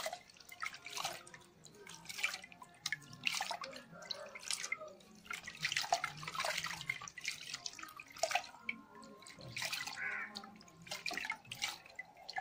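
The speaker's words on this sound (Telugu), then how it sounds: "ముఖ్యంగా ఈ గిట్ల కడుగు ఇలాగ మట్టి ఉంటుందండి, మట్టి అంతా శుభ్రంగా మనం బాగా కడుక్కోవాలి." Crab claws are rinsed in water to wash off mud, producing close, intermittent splashing and trickling with scattered drips and clinks throughout.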